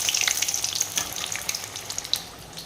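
Kola chop fritters frying in hot oil, a close crackling sizzle with scattered sharp pops that gradually thins out, heard with no talking.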